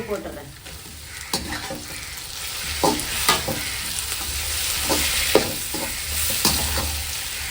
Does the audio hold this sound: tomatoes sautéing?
yes